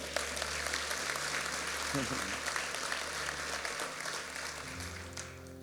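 A church congregation applauds during a sermon, a soft, diffuse wash of clapping at a distance, with a voice speaking over it and a low musical drone underneath.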